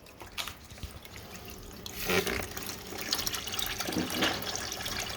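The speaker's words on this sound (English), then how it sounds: "Then quickly place it down into your, bucket or whatever you're using to contain the gas or whatever fluid you want." Fluid siphoning through a hose into a bucket gives a faint trickle that turns into a splashing gush partway through, running on as a steady pour at close range without any talk.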